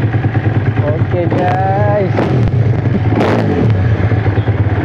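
A big motorcycle engine runs steadily in a garage of expensive bikes, a continuous loud rumbling drone with slight revving, while someone speaks briefly over it.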